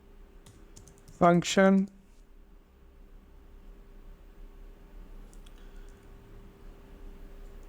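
Fast clicking of a computer keyboard as code is typed, close and fairly loud, a short burst of keystrokes followed by quieter scattered taps, with someone speaking briefly.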